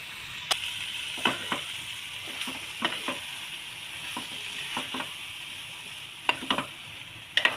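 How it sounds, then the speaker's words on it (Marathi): Dry prawns sauté in a thick masala in a pan, with a continuous sizzle broken by repeated sharp scrapes and clacks of a spoon stirring them through. "व्यवस्थित परतून घ्यायचे सर्व मसाल्यामध्ये"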